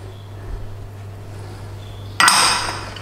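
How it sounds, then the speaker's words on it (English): Garlic and ginger hit a pan for a beef stir fry, bringing a sudden bright burst of clattering, sizzling noise near the end after a quiet hum, loud and close with no talking. "Nice and steady, little bit of a stir fry."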